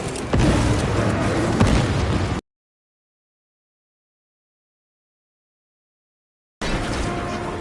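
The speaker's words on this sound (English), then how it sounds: "Frag grenade deployed." A frag grenade detonates in the video game Space Marine 2, a loud, dense blast roaring for about two seconds before cutting to silence, then another heavy burst of battle noise returns near the end.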